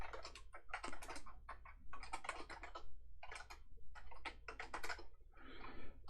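Rapid typing on a computer keyboard while working on a Clojure project, with clustered bursts of keystrokes and short pauses, close and fairly loud throughout with no talking.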